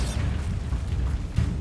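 A Bombarda spell blast in Hogwarts Legacy, a deep, muffled booming rumble with low thuds and a second burst near the end, heavy and close.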